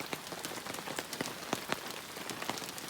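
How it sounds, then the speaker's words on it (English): Steady rain patters onto surfaces at a lakeside campsite, with many soft, close drops ticking irregularly throughout and no voices. "But it's 6:30 and it's still raining."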